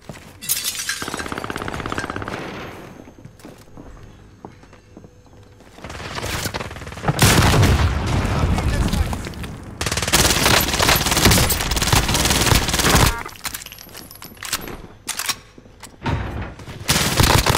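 Gunfire and explosions in Call of Duty: Modern Warfare build from a quieter opening into loud, chaotic volleys of rapid shots and crashing blasts that keep returning in heavy waves.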